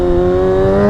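A Kawasaki 636 sport motorcycle launches from a standstill in second gear, its engine holding a loud, steady high-revving drone up close with no voices.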